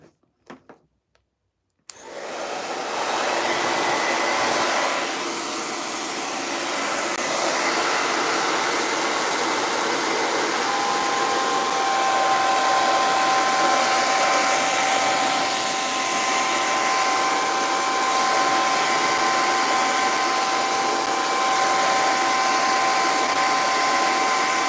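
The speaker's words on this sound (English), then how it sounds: "I'm trying to blow dry this girl here." A hair dryer blows hair dry, switching on after a couple of seconds of faint handling noise and then roaring steadily and loudly with a constant whine for the rest of the time.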